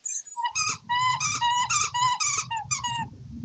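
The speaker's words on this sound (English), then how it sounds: "Is that Zelda the dog eating a toy?" A dog named Zelda chews a squeaky toy, giving rapid bursts of shrill squeaks nearly continuously for a few seconds, with a low rumble of muffled chewing underneath.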